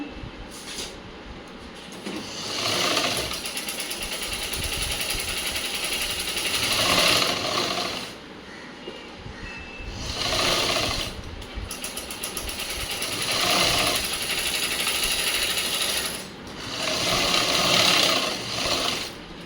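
A tailor's sewing machine stitches a cut blouse in several separate runs, each a rapid rattling whir that starts and stops, with short quiet pauses between bursts.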